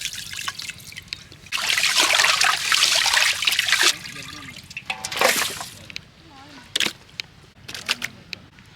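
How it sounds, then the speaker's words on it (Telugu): Raw chicken is washed by hand in water with rock salt for a village-style Hyderabadi biryani, with close splashing, trickling and sloshing in bursts and brief pauses between. "ముందుగా మనం చికెన్ని నీట్గా కడుక్కుందాం."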